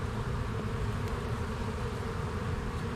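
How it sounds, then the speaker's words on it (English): Honeybees at a spring hive split buzz loudly and steadily at close range, a dense continuous hum with no voices. "they're buzzing pretty loud"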